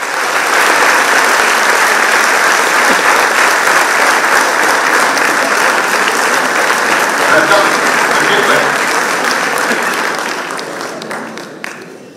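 Loud, sustained applause from a large auditorium audience welcoming a poet and speaker to the stage, a thick wall of clapping that holds for about ten seconds before tapering off.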